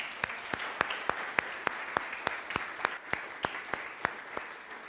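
A church congregation claps in praise, with many hands in dense applause and strong, regular louder claps punctuating it in an even rhythm, sustained and close with no talking over it.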